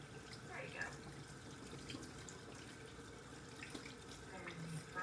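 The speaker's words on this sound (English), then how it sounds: "I'm going to go ahead and wash my hands up." Water runs steadily from a tap into a sink as hands are washed in a kitchen while baking, a continuous broad wash with faint splashes throughout and no speech.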